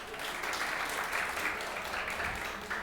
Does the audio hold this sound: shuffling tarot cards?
no